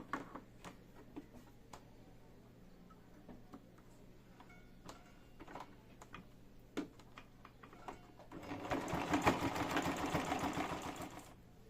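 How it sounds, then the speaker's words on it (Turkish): A sewing machine stitching a fabric tablet case, with scattered ticks and handling clicks over a low hum before the machine runs in a loud, fast mechanical whir for the last few seconds. "Şimdi bu kısmı dikeceğiz."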